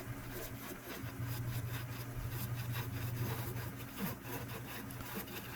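Wooden tree decorations being cut out, a steady low machine drone running through with scraping, rubbing wood noise layered over it and no voices.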